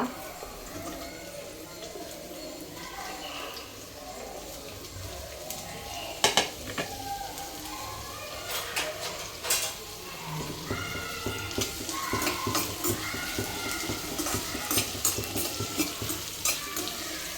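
Onion frying in hot oil for paneer masala, steady sizzle with a spoon scraping and clinking against the pan, a couple of sharp metal knocks, livelier stirring later on.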